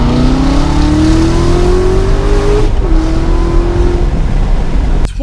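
A Corvette Z06 pulls hard in second gear, its engine roar loud and close with a rising supercharger whistle climbing in pitch, briefly dipping at a shift and then continuing.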